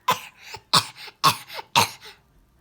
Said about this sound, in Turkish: ben çünkü öksürüyorum